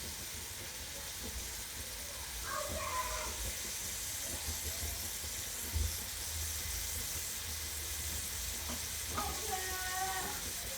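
Eggplant sizzling in a frying pan just after yogurt is added, a steady close hiss of frying with occasional stirring clatter, and no talk.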